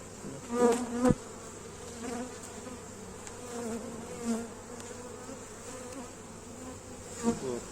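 Honey bees buzz steadily in an opened hive with a half-frame honey super, a continuous droning hum with a few louder swells, close by and with no talking over it.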